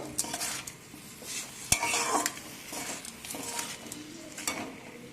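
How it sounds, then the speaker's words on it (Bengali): Amla gooseberries being stirred together with fried spices in a pan for a sweet-sour pickle, a steady run of spoon scraping and clatter with faint sizzling, close up and continuous without talk. "সব একসাথে ভালো করে মিশিয়ে নেব"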